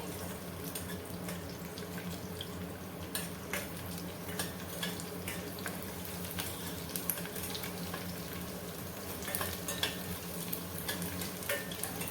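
Green chillies dropped into hot oil with browned garlic sizzle in a steady, dense crackle, with occasional stirring clinks and scrapes; no talk.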